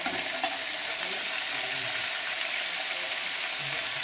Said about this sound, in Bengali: ফোড়নের বন্যা বইয়ে দিয়েছি একদম।